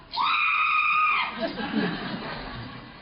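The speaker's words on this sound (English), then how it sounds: "If you say vampire, I'll scream." A woman's high, sustained scream rings out loud for about a second at a Broadway stage performance, then breaks off into chatter and chuckling voices.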